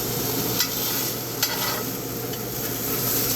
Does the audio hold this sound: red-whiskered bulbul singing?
no